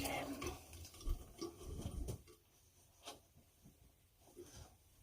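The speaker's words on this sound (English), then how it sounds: "Rinse a little of this alum off the face." Water splashing as alum is rinsed off a face after a shave: soft close splashes and dripping, strongest at first and then thinning to occasional splashes.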